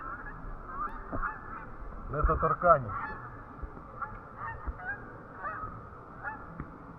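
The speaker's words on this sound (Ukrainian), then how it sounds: "Вон качки маленькі, а там гуси. Канадські гуси." Canada geese honk repeatedly at close range, several overlapping calls in a burst, with a brief voice in the background.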